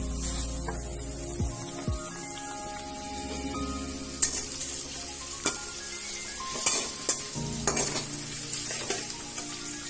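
Curry leaves crackle and sizzle in hot oil during tempering, a steady close hiss with scattered sharper pops and clatters that build in the second half, no voices.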